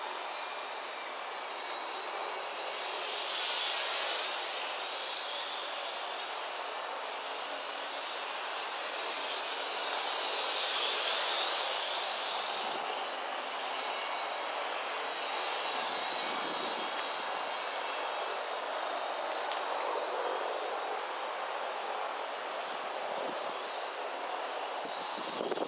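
A camo quadcopter drone flies in the wind, its steady whirring buzz holding throughout at a moderate distance, rising and falling slightly with no voices.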